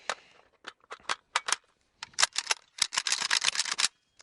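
Empty AK-47 magazines handled during a dry reload, a run of sharp metallic clicks and clacks, sparse at first and then bunching into quick close rattling bursts.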